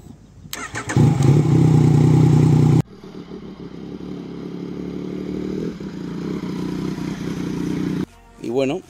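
A Yamaha Tracer 900 GT motorcycle engine starts with a loud, rough rumble. It then idles and revs steadily at close range during a test ride, with a brief voice at the very end.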